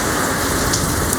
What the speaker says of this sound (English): You can see all the rain.